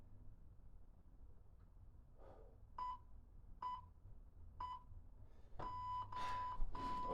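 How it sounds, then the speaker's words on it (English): Workout interval timer sounding three separate short beeps at steady one-second spacing, then a longer run of louder beeps that blend into a sustained alarm tone at the end, fairly close and clear. "Listen out for the timer."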